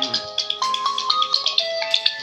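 A mobile phone ringtone plays an incoming-call melody indoors at home, a bright repeating electronic tune with steady note patterns, clear and fairly loud with no talking over it.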